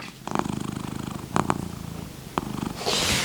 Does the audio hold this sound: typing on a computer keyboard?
no